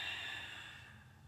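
A single soft, breathy exhale during seated chair yoga, close and gently fading over about a second, with no talking.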